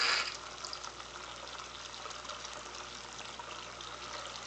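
Liquid poured steadily into a Vevor still being filled for strawberry moonshine, a soft continuous trickle and splash after a brief louder start, close by, without speech.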